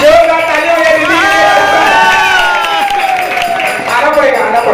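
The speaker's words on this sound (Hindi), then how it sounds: "जोरदार ताली हो गई दीदी।" Loud crowd applause and cheering at a Teachers Day event at a coaching class, sustained throughout with music or singing tones and voices mixed in.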